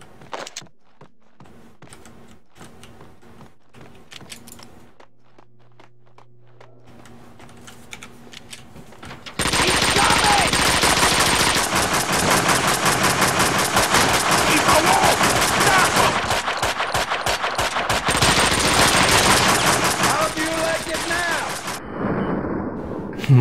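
Gunfire in the video game Max Payne 2, starting with scattered shots and clicks before erupting into loud sustained rapid bursts that continue for many seconds, then cutting off.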